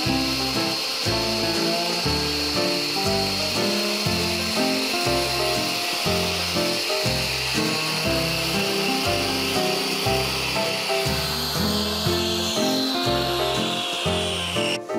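A rented Cramo block cutter saw slices through building blocks, giving a close, continuous grinding whine broken by a steady rhythmic pulsing as the blade works through the material.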